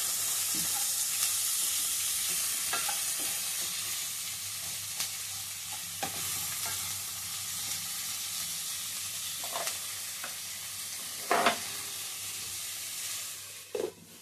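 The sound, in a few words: onions and vegetables cooking in a pan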